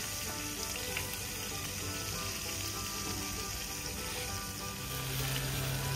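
Okra and meat fry slowly in olive oil for Turkish zeytinyağlı bamya, giving a steady, close sizzle with soft crackle and faint watery bubbling that stays even and unbroken throughout.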